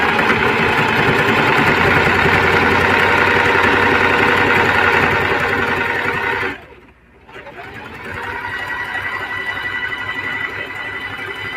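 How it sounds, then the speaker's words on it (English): A Brother 1034DX serger stitches a bandana tote bag with a steady, fast mechanical whir close by. It stops briefly, then resumes a little softer. "Okay, so now I'm just going to sew this down."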